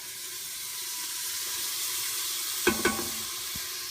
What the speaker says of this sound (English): I just wait until the onions are basically sauteed.